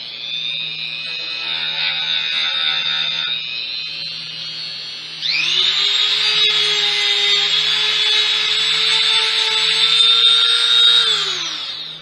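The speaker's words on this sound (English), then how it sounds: "I'm just going to run a Dremel on that just to sand it down a little bit" A Dremel rotary tool whines at a high steady pitch, then rises to a louder, harsher grinding as it sands a wooden pen blank, close and continuous before spinning down.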